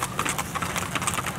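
Steady clip-clop of horse hooves on a hard surface during a trail ride, a quick continuous rhythm, fairly close, with no talking.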